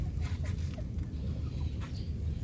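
Chickens cluck softly in short, scattered calls over a low, steady background rumble.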